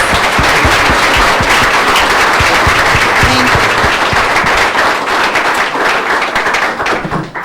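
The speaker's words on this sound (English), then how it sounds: "A big applause for these two volunteers" Loud, close applause from a presentation audience for two volunteers, a dense, continuous burst of clapping with sharp individual claps standing out, tapering slightly at the end.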